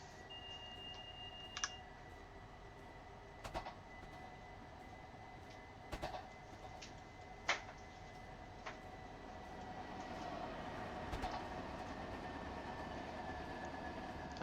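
A passenger train pulls into Larchmont station, a faint, steady rumble inside the car with scattered clicks and clanks, growing slightly louder and rougher toward the end, no talking.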